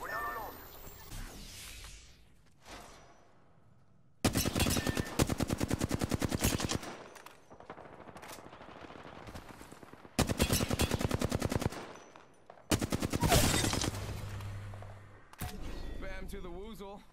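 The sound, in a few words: gunfire in a video game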